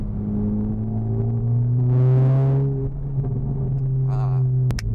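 A small 1.3cc car fitted with 3-inch exhaust piping idles with a steady low drone, swells through a brief rev, then lets out a sharp exhaust pop near the end.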